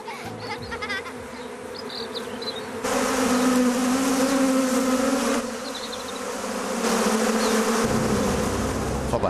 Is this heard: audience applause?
no